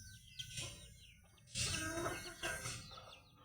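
Chickens clucking and scratching while being fed, several short bursts of clucks at moderate distance over a quiet background.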